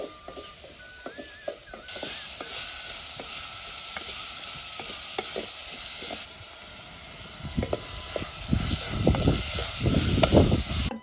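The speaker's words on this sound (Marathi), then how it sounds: "याच्यामध्ये बारीक चिरलेला कांदा टाकते तर कांदा आहे ना मस्त लाल खरपूस रंग येईपर्यंत आपल्याला छान परतून घ्यायचा" Finely chopped onion fries in a pan of tempered hot oil, a steady close sizzle and hiss broken by scraping stir strokes that grow busier toward the end, with no voices.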